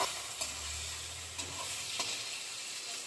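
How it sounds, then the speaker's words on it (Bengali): A fish head frying in a pan with cumin, dried chilies and turmeric gives a soft, steady sizzle, broken by three or four quick scrapes of a spatula stirring it. "একটু নাড়াচাড়া করে ভেজে নেবো"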